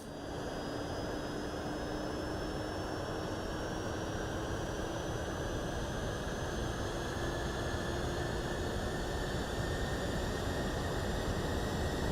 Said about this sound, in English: Engine starting up on the right side.